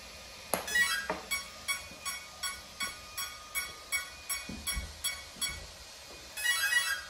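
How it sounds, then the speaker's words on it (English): A Schubeler 90mm electric ducted fan setup sends out a regular series of short electronic beeps, about two per second, clear but quiet, with a faint background hum. "Awesome beeps there"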